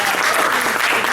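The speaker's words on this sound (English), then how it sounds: "Let's get a big round of applause for Brian K." An audience greets a guest with a dense, steady wash of clapping, loud and close, filling the whole short stretch with no pause.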